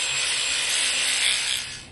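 Steady abrasive rasp of a 50 grit pad sanding a large Petoskey stone, a continuous bright hiss close up that holds even throughout and tapers slightly at the end, with no voices.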